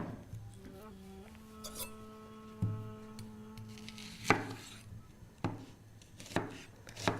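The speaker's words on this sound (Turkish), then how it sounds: "öncelikle soğanlarımı doğrayacağım" A knife strikes a cutting board in sharp, irregular chops through onions, with a steady hum and some clinking of kitchen items around it.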